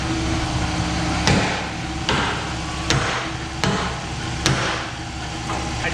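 Rivets on an F450 7.3 tool truck build struck with a hammer, five sharp metallic blows spaced about a second apart over a steady loud mechanical hum, close by.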